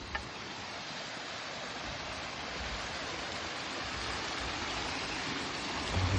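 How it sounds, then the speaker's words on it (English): Several waterfalls pour steadily close by, a dense continuous rush of running water that fills the whole clip at an even level. "This one looks even steeper than so many waterfalls just in one place."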